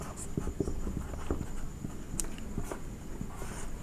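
Chalk or marker writing on a board during a maths lesson, a string of light irregular taps and scratches in short strokes, fairly close in a quiet room, with no talking.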